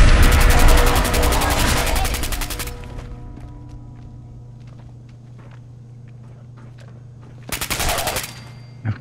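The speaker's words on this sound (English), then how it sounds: "Shoot him, Kate." Rapid machine-gun bursts from a Fallout 4 firefight ring out loud and close for about three seconds, give way to quieter scattered shots, then erupt again in a short, loud volley near the end.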